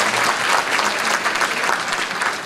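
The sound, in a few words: audience clapping at a concert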